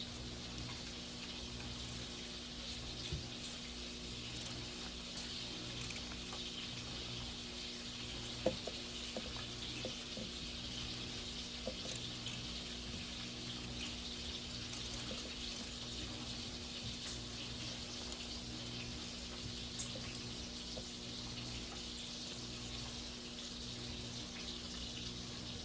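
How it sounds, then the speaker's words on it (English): Cubed pork being rinsed under a running tap in a sink, a continuous steady hiss of flowing water with faint scattered clinks, no one talking, lasting throughout. "Going to wash them off really good"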